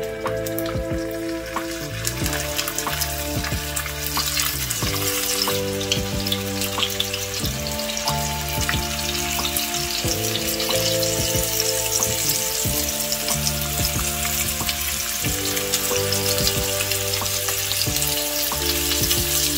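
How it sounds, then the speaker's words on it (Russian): Meat rolls frying in hot vegetable oil in a pan give a steady, close sizzle throughout, with a layer of background music underneath and no speech. "И таким образом обжариваю со всех сторон до золотистой красивой корочки."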